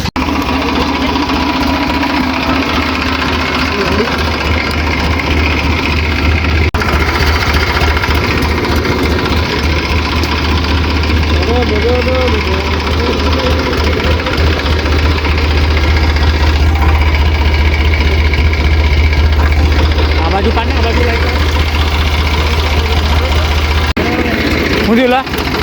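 A tractor with a trolley attached idles loudly on a rough village road, its engine a steady, unbroken drone. Voices talk over it.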